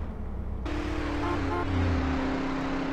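A car driving in GTA San Andreas, its engine hum starting abruptly and holding a steady tone that shifts pitch slightly as it moves along, loud and close.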